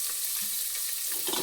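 Curry leaves and chopped onion frying in oil for a sprouted horse gram sambar, an even, moderately loud sizzle with faint stirring scrapes and no voices.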